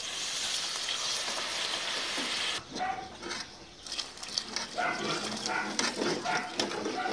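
Water is poured into a hot cooking pot for potato pulao with soaked rice, a loud sizzling hiss suddenly giving way to bubbling, crackling spatter that continues and builds up again close by; no one speaks.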